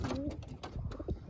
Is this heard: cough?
no